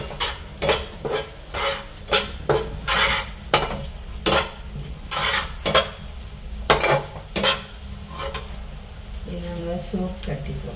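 Egg fried rice being stirred in a pan, with repeated scraping and clattering of a spoon against metal in an uneven rhythm over a soft sizzle, while a voice talks in between.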